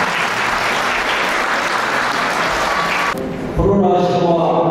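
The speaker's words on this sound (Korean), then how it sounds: "큰 박수 부탁드리겠습니다" Wedding guests in a hall give a sustained burst of loud, dense applause that cuts off abruptly near the end, followed by a brief quieter stretch with a voice speaking.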